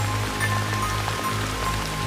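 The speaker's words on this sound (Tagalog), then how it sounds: "Malakas pa rin ang ulan at hangin." Heavy rain and wind outside a hotel room make a constant, dense hiss and patter with a low rumbling undertone, steady and loud throughout without any voices.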